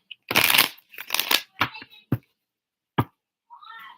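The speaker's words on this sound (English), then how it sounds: "I had to come on here, shuffle a little bit" A deck of tarot cards is shuffled by hand at close range, with several crisp riffling bursts separated by short pauses and a couple of sharp taps, fairly quiet overall.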